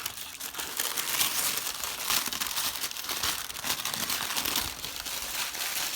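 An airbrush stencil is peeled away from a painted metal surface, giving a continuous close crinkling and crackling rustle that lasts throughout at a steady level.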